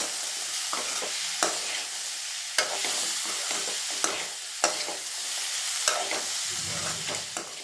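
Bottle gourd with grated coconut sautés in a pan, a steady close sizzle with regular scraping strokes of a spatula stirring the vegetables every second or so, no voices.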